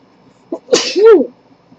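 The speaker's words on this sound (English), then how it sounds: "now I have to sneeze" A single loud sneeze, close by, with a short sharp inhale before the burst; silence on either side.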